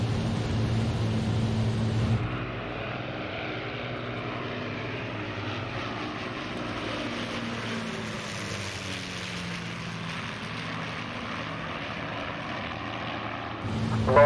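Avro Lancaster piston engines with propellers droning steadily from inside the cockpit in a flight-simulator game, a constant deep, even hum with a faint slow swell, and no talk.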